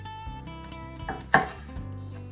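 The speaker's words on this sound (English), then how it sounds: "For the Roma tomatoes, we're just going to chop off the top" A knife chops the tops off Roma tomatoes, giving two quick, sharp cuts close together over a soft musical background.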